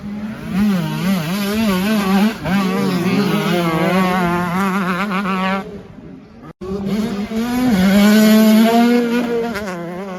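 Several 125cc motocross bikes whine at high revs during timed practice at a French championship round in Vesoul, engines rising and falling as they race past, loud and continuous with a brief dip midway.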